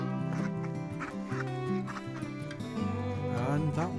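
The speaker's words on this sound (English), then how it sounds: "With a final word from Big Boy the Cockerel." A cockerel named Big Boy crows among a small farm flock of chickens, a loud near rasping call rising and falling over steady background clucking, lasting a few seconds.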